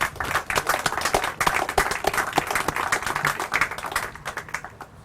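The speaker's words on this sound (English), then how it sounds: "So they deserve a round of applause." Applause from a crowd at an outdoor ribbon cutting ceremony for the Sandy Hollow Cove apartments in Southampton Town, steady dense clapping that fills the whole stretch before thinning slightly near the end.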